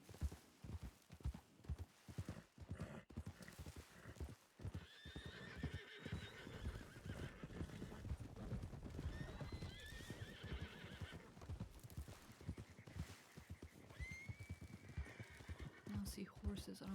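A wild horse in the WildRP video game whinnies several times with rising squeals while hooves clip-clop steadily underneath, with people talking throughout.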